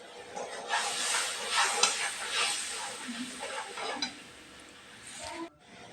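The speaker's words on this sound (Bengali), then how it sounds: "সেই মশলাটি দিয়ে দিলাম মশলাটিকে ভালো করে কষাবো" A paste of mustard seeds, poppy seeds and chili sautés in a hot pan for mustard hilsa, giving a loud, continuous frying hiss with soft stirring that cuts off near the end. No voices.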